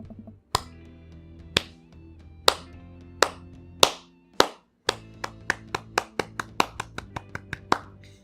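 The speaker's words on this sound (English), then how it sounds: "She begins to clap slowly at first." Slow clapping from a single person in the Dream Daddy video game, starting with widely spaced, sharp claps and then quickening into a faster, steadier rhythm near the end, each clap crisp and close over a faint, quiet music bed.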